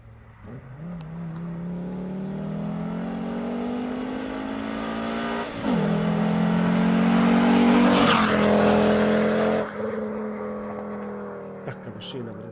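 Car with a swapped 2.4 engine and straight pipe exhaust accelerating hard nearby, its loud raspy note climbing through repeated gear pulls with brief drops between, and a voice speaking faintly under the engine.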